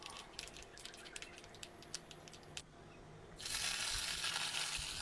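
Mustard seeds, fenugreek and a chili frying in hot oil for onion sambar, a soft crackle of scattered pops that builds into a loud, dense sizzle in the last seconds.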